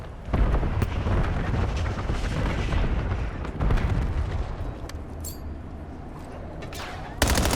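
A Semtex grenade explodes during a Call of Duty Black Ops 7 multiplayer match, giving a loud booming blast within near-continuous heavy gunfire and explosions that stay dense throughout, ending in a sharp burst.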